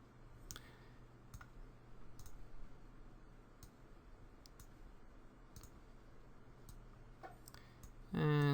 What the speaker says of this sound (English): Press F on the keyboard to go to the front view.